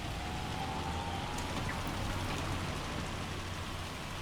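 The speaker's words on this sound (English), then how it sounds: "This hail is coming down heavy, hot and heavy, man." Heavy hail pouring down in the Farming Simulator 25 video game, a dense, constant hiss of pelting ice with no letup and a faint engine drone beneath.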